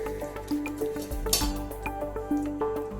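Homemade mozzarella curd set in a sieve to drain, with soft dripping and squishy wet sounds and occasional light clinks, close and quiet, no talking.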